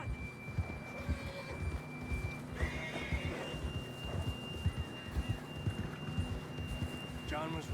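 A horse in Red Dead Redemption 2 gives a loud whinny while hooves clip-clop steadily on the ground, set against faint game ambience with bird-like chirps.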